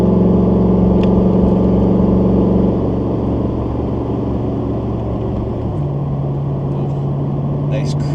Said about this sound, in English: You mostly just want to hear the truck anyways